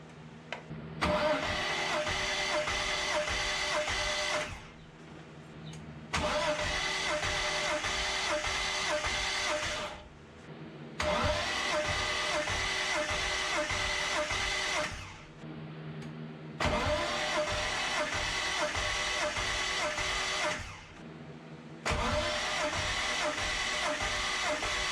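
A BMW M3 engine cranks on the starter during a compression test, with four long bursts of steady rhythmic churning separated by short pauses, loud and close with no talking.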